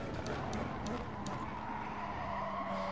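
A race car corners in the GT Sport video game, its engine droning steadily while tires squeal and skid through the turn for about three seconds, with a constant dense roar and no break.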